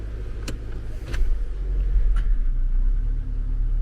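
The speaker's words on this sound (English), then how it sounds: "Motor sounded good, then it rumbled for a second. Now it sounds good again." A car engine idles after sitting unused for a while, with a steady low rumble, a brief surge in level partway through, and a few faint clicks over the continuous hum.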